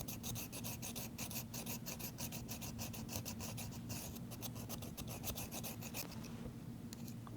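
Double shears with a bent handle being hand-sharpened along the bevel with a file, giving a steady run of rasping strokes, close and fairly loud, with no talking.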